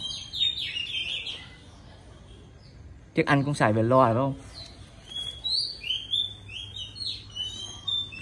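Birds chirp and tweet in quick repeated high calls near a house in District 2, steady through most of the stretch, while someone speaks Vietnamese briefly in the middle over them.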